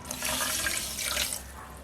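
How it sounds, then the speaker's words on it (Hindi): Water pours steadily from a cup into half a cup of sugar in a pan for syrup, a close, continuous splashing trickle heard alone for about two seconds. "आधा कप ही पानी हम इसमें डाल रहे हैं"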